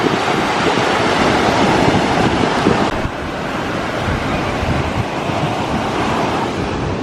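Ocean waves roll steadily onto Cherai beach in Kerala at night, a continuous loud wash of surf with gusty wind noise on the microphone and no voices.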